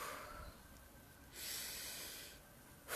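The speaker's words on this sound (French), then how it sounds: "Il faut respirer." A deep breath drawn in and let out, close and soft, with a rushing hiss swelling midway and rising again at the end.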